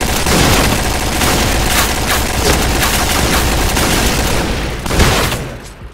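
Dense, continuous video game gunfire in a clan war match, with rapid overlapping shots and bursts sustained at high volume, a heavier burst near the end before it fades.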